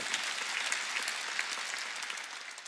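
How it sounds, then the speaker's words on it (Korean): A church congregation at a Sunday worship service claps steadily, a fairly faint and continuous patter of many hands with no voices over it. "박수 칠려면 세게 치라"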